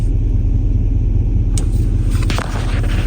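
A car engine revs hard on a frozen, snowy Canadian morning, a loud, close rumble that swells in the middle with a few crackling bursts over the constant growl.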